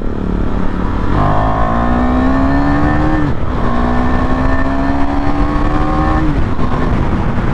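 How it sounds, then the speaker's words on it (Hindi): A KTM motorcycle accelerates hard in second gear on a monsoon hill ride at Wilson Hill, Dharampur, its loud engine note rising steadily in pitch, dipping at a shift and climbing again, close and continuous with wind noise. "देखो अब दूसरे गियर में मैंने रखी"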